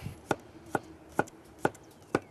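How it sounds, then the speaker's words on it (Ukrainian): A knife slices cucumber into thin rings on a cutting board for a spring salad, making five crisp, evenly spaced chops close by in a quiet room. "Далі огірки теж кільцями"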